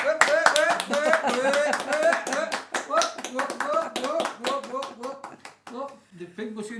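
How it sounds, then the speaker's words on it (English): Hands clap in a quick, uneven rhythm in a home kitchen during holiday baking, with voices talking and chattering over the claps throughout. "give a round of applause and give a clap"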